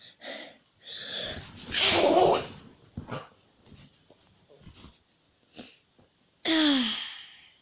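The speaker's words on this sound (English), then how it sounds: "Oh, I've got a sneeze, everybody." A loud, theatrical sneeze bursts out, followed by quieter breathy snorts and rustles, then a second sharp sneeze near the end.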